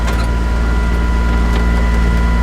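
A sailboat motors under engine power in calm conditions between squalls, making about 8 knots; a steady, loud engine drone with constant low hum and wash continues throughout without pause, and no one speaks.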